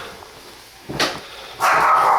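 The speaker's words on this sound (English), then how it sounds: "You hear there's a little doggy up here." Small pug in an upstairs apartment giving two short barks or yips, the second longer, heard from a little distance above a quiet indoor background.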